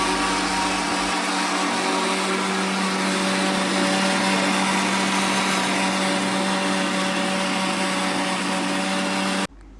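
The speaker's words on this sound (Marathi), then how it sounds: "मसाला भाजून झाल्यानंतर ना लगेच मामीने मिक्सर लावायला सुरुवात केली होती." An electric mixer grinder grinding roasted masala runs as a loud, steady motor whine with a strong constant hum, holding nearly ten seconds before switching off abruptly at the end; no one speaks.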